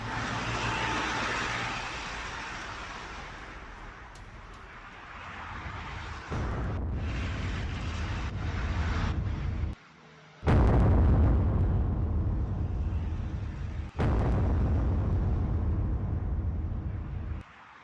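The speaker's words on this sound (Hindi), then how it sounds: "हिजबुल्लाह के वेपन डिपो पर बड़ा हमला किया गया है" Explosions from an attack on a Hezbollah weapons depot: long roaring rumbles and booming blasts that cut in abruptly, with a heavy surge near the middle, loud and continuous with no speech.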